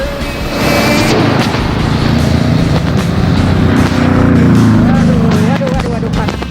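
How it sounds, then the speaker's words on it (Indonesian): A big vehicle drives past nearby, its engine rumble swelling and fading over several seconds beneath cheerful chatter from a group of people. "Wow, mobil besar sekali."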